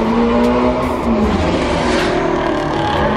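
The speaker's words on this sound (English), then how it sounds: "The Mustang and a Honda. That sounded insane." A Ford Mustang and a Honda roaring past, loud, close, continuous engine noise with revving and a rising, shifting tone lasting a few seconds, no voices.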